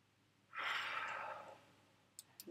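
A patient breathes out during a physical exam, one soft, airy exhale of about a second, close and quiet, followed by faint clicks.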